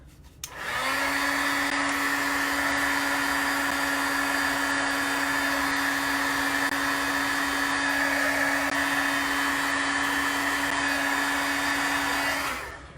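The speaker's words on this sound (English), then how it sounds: "I'm going to hit it with the heat tool really quickly." A craft heat tool blows with a steady, loud whirring hiss for about twelve seconds, starting and stopping abruptly, with no talking.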